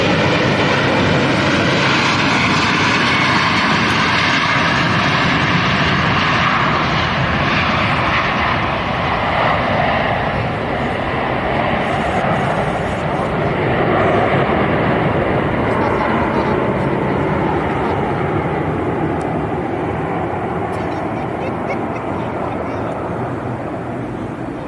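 An airliner takes off from London City Airport, its engines producing a loud, steady roar that fills the scene throughout and eases slightly near the end.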